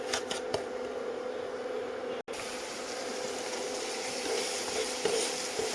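Jaggery syrup hits roasted semolina in a pan, giving a steady close sizzle with faint stirring scrapes, cut by a brief dropout midway, no voices.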